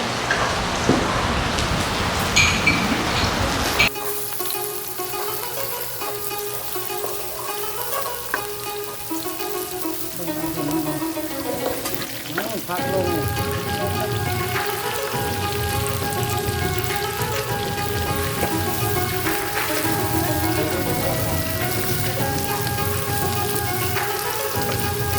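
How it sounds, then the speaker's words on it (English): Garlic frying in a little oil in a pan for a stir fry, giving a steady, close hiss and sizzle that swells louder after a few seconds and runs on without talk. "Stir fry, we're gonna put a little bit of oil in the pan and heat up some garlic first"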